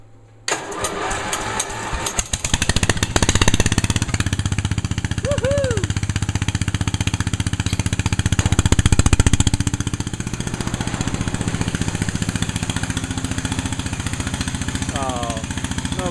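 A vehicle engine catches after a cold start and settles into a steady, loud idle with a fast, even pulse, running continuously after the first seconds while voices talk over it.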